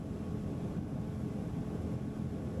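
Steady, even drone of a V10 400 hp engine on an Iron 907 Open boat running near 40 knots, a continuous low rumble with wind noise and no speech.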